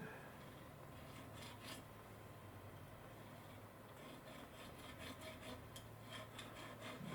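A triangular file rasps burrs off the metal of a Spanish cavalry carbine in quick, repeated back-and-forth strokes, faint and close, with a soft steady background hum.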